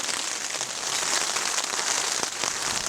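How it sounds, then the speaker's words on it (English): Steady rain pattering hard on a campsite on the John Muir Trail, a dense continuous hiss with a few louder drips standing out, no voices. "it's raining again."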